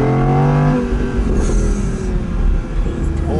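An Audi R8 V10 RWS, the rear-wheel-drive version, revs its V10 engine in a loud, sustained, droning roar whose pitch falls and then climbs again, heard close with no talking.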